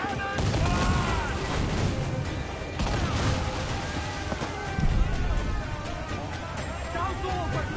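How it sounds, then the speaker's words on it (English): Repeated cannon blasts from a pirate ship battle in Assassin's Creed Black Flag, loud, dense booms and crackling gunfire in a chaotic barrage, with shouting voices and music layered underneath throughout. "The cannon fire!"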